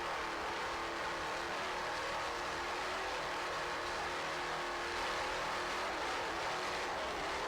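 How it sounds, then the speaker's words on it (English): A 35-foot cigarette powerboat racing in bumpy, rough water off Key West roars continuously and loudly, its engine note shifting slightly as the throttle is worked, with no talk over it. "Nice throttling Richie Sapulo."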